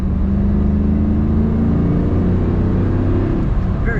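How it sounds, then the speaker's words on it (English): A 1995 Chevrolet Camaro Z28 automatic convertible, top up, accelerates with a steady low engine drone that climbs slightly in pitch, heard from inside the cabin with no talk. "Very good acceleration in this car."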